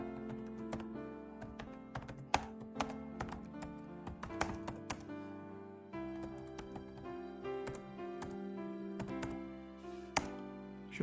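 Rapid, uneven typing on a computer keyboard, close and clear, with dense clusters of key clicks and occasional louder taps running throughout.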